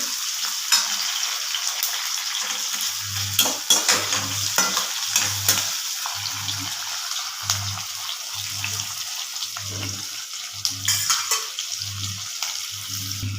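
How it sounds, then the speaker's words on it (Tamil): Onion and tomato sautéing in a pan, a soft steady sizzle under a run of rhythmic stirring scrapes, about ten regular strokes close by. "வெங்காயமும் தக்காளியும் வதங்கிடுச்சுங்க."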